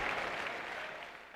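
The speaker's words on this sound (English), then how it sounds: "Crowd really warmed up here with a good start by the Australians" A cricket crowd applauds at the Sydney Cricket Ground during a 1994 World Series Cup match between Australia and South Africa, a sustained wash of clapping heard fairly distant and soft, easing slightly toward the end.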